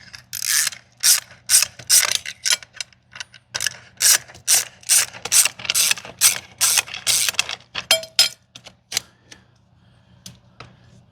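A hand screwdriver ratchets a long screw loose on an inground pool light, a series of sharp clicking bursts in a steady back-and-forth rhythm, close and loud, tapering to a few sparse clicks near the end.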